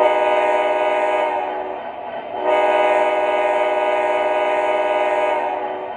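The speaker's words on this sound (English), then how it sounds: "here's the horn" A horn on an MTH O scale model train sounds as a steady harmonic blast, briefly dropping and then resuming for a second long held tone, loud and close with no talk over it.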